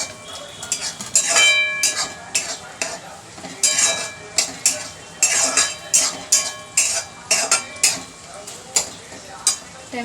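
Tomatoes added to fried onion in a pan for eggplant bharit, with a soft sizzle under repeated metal spatula scrapes and clinks against the pan, a steady stirring rhythm up close.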